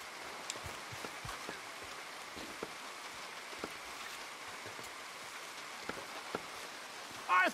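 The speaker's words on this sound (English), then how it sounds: "Come on, it's raining." Steady rain falls in Red Dead Redemption 2, a constant hiss of drops with scattered sharper patters and a brief louder knock at the very end.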